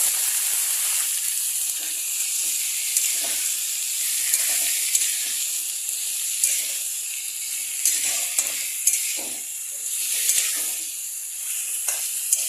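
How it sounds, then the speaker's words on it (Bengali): Vegetables sizzle and fry in hot oil with ginger and bay leaf for a vegetable khichuri, a steady bright hiss with occasional stirring scrapes, close and continuous throughout. "তার সঙ্গে এখানে সবজিগুলো দিয়ে দেবো।"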